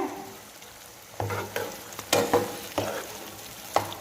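Chicken gizzards fry in a kadhai with chili powder, turmeric and coriander powder, giving a soft sizzle broken by several close scraping stirs.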